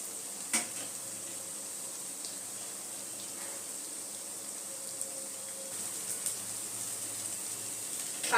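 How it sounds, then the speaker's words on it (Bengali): Crispy potato cutlets fry in a pan of hot oil with a steady, even sizzle that keeps going the whole time, broken by a few faint clicks and scrapes of a utensil. "এক সাইডটা দেখুন আমার গোল্ডেন ব্রাউন করে ভাজা হয়ে গেছে,"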